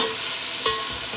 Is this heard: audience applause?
no